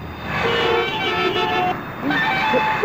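Busy road traffic with car horns tooting and honking over a steady roadway din, several tonal blasts overlapping through the scene.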